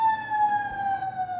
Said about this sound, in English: sirens are on our end.